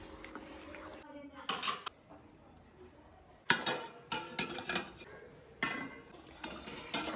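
A spoon stirring coconut pieces and raisins in a pan, with bursts of metallic scraping and clinking separated by quieter pauses, close and moderately loud.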